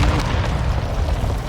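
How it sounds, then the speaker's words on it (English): Precision airstrike explosions in Call of Duty Warzone 2.0, heard as a dense, booming low rumble of blasts that rolls on continuously at close range, loud and unbroken. "Precision airstrike."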